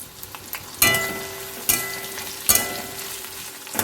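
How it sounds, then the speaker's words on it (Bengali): Chopped onion stirred and fried in a pan, a constant sizzle broken by three sharp clattering scrapes of the spoon about a second apart, loud and close, no voices. "এই পেঁয়াজ কুচিটাকে এক মিনিটের মতো একটু নেড়ে চেড়ে নেব"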